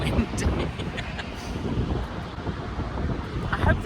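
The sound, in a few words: strong wind outdoors in Kansas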